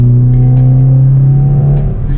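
A Hyundai i20N's 1.6 turbo, 204 horsepower engine revs loudly and close, holding a rich steady drone that rises slightly and fades at the end.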